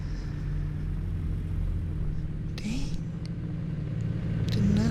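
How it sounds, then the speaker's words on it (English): Steady low rumble of interstate traffic at night heard from inside a moving vehicle, with trucks passing and a few brief higher whooshes over the continuous road drone. "Wow, lots of trucks coming in."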